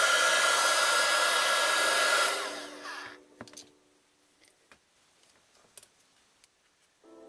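A heat gun blows hard for a couple of seconds on a cut thermoformable foam petal held on a skewer, then switches off, leaving faint ticks and small handling taps before a brief return of airflow at the end.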